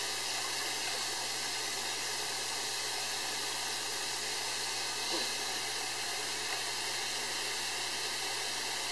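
Hot tap water runs continuously while an airbrush is rinsed, a steady broadband hiss that stays even and fairly loud for the whole stretch, with no talk.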